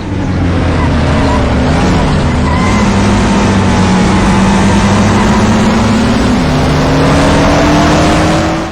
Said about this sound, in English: make you drive a race car around a track at some point in the game